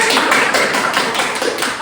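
A short burst of applause from a group, steady and fairly loud, dense clapping with no voices.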